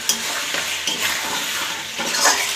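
Fatty chicken fries in rendered oil with a continuous close sizzle, as a spoon scrapes and stirs the pan in a few irregular strokes.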